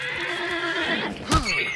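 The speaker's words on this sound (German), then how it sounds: "Das ist ein Pferd." A horse whinnies in the video game Hunt: Showdown, a long, wavering neigh that ends with a sharp snort, close and clear with no talking.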